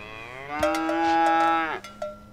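A cow in The Sims 3 gives one long, drawn-out moo, loud and near, with a few faint clicks and knocks around it.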